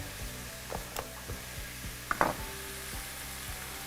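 Roasted eggplant and garlic go into a pan of cooked minced meat, with a quiet continuous sizzle under a series of soft knocks and scrapes, spoon or lid clinks near the middle.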